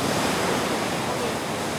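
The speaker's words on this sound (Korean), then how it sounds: "높이 5m의 거친 파도가 몰아치는 낙산 해수욕장" Rough surf roughly five metres high pounds Naksan beach at night, a loud continuous roar of crashing water and wind noise filling the whole clip.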